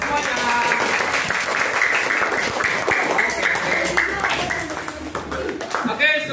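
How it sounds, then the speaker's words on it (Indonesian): A fifth-grade class applauding at the end of a lesson, a dense burst of many hands clapping together, loud and close, with voices mixed in. "Tepuk tangan untuk semuanya."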